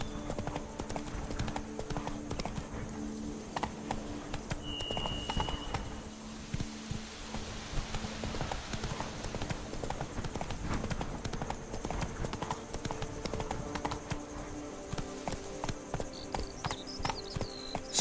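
Horse hooves in The Witcher 3 on PS4, a steady rhythmic clip-clop of galloping running continuously and evenly throughout, fairly quiet, with a brief spoken line over it.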